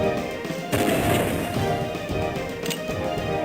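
Booming Civil War artillery fire in Civil War Generals 2, a loud heavy blast followed by a rolling crash and sustained rumbling echo, alone without talk.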